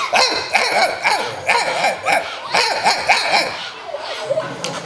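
A voice imitates a dog barking, producing a rapid series of loud, close bark-like yelps and whimpers in a steady rhythm, with no other talk.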